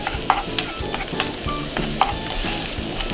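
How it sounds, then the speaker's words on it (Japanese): Chopped onions sizzling and being stirred in a pan of hot olive oil over medium heat, a steady close fry broken by clinks and scrapes of the utensil. "これ熱したら、玉ねぎ、こいつをね、小さじで炒めていきます。"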